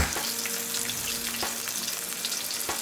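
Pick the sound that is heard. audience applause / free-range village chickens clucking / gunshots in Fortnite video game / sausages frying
sausages frying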